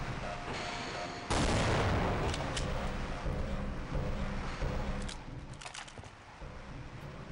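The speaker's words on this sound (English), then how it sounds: "You have to shoot those boxes so that the robot can start moving." Video game gunfire aimed at boxes, a dense, loud barrage of booming shots that kicks in after about a second and rolls on with a few sharper cracks, fading slightly toward the end over a constant game soundscape.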